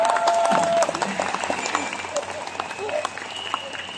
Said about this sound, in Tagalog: Wala bang palakpak dyan?